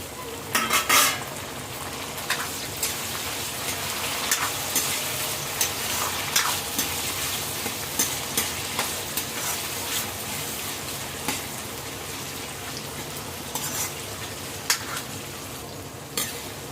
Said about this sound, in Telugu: టమాటా బాగా ఫ్రై అయిపోయింది కదండి.